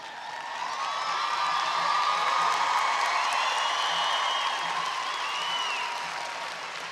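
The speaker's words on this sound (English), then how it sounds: "I don't know why you're applauding" A graduation audience bursts into applause during a valedictorian's speech, the clapping swelling quickly, holding dense and steady, then tapering, with a few whoops mixed in.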